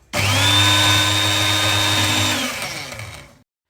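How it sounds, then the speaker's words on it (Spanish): Hand blender whirring loudly through a potato and chorizo stew, a steady high motor whine starting abruptly, holding close and strong, then easing down and cutting off. "Yo voy a darle con la batidora."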